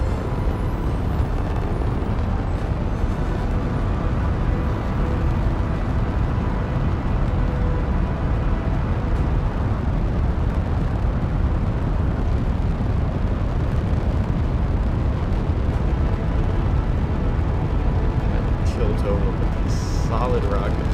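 Solid rocket boosters roar continuously during a launch in Kerbal Space Program 2, a loud, steady low rumble that holds without a break and shifts only slightly near the end.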